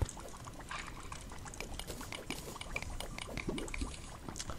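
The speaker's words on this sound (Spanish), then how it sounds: "aquí voy a lanzar este agua" Water is poured out in Terraria, a steady splashing, trickling wash that runs loud and continuous for the whole stretch with no talk over it.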